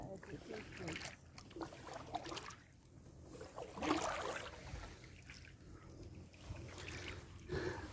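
An inflatable Itiwit 3 kayak is paddled on a lake, soft rhythmic paddle strokes and gentle water trickles and splashes repeating at close range, with people talking quietly over them.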